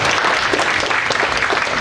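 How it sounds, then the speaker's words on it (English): Audience applause for new inductees at a National Honor Society induction ceremony, a steady, dense wash of clapping that holds at an even level from start to finish with no voices over it. "So just give them a round of applause again."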